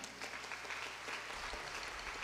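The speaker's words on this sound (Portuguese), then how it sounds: "Uma salva de palmas." Steady applause from a church congregation during a worship service, a dense even patter of many hands clapping throughout, fairly distant and moderate in level.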